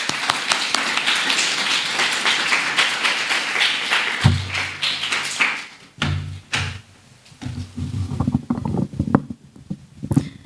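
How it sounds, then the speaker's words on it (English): An audience at a Japanese speech contest in Kenya claps for a contestant, a sustained patter of hands that thins midway, with thumps and knocks of movement near the end. "Let's give her a hand of applause."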